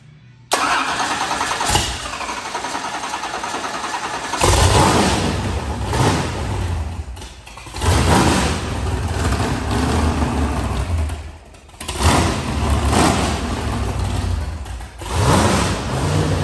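A Ford 429 Super Cobra Jet V8 cranks and fires up, then idles roughly with several loud revving bursts separated by brief dips, close and powerful throughout, with no talk.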